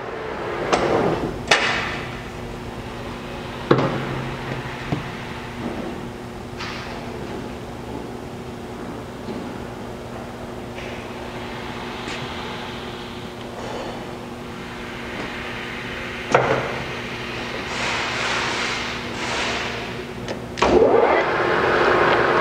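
A Hwacheon HL-460 gap bed lathe, 18/27 by 59 inch, built in 2000, runs steadily at a higher spindle speed with a constant tonal hum, punctuated by a few sharp clunks and knocks from the machine.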